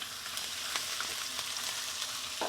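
Ginger, garlic and a green chili fry in a hot pan for a curry of roasted soya chunks, giving a steady close-up sizzle with faint stirring clicks and no talking.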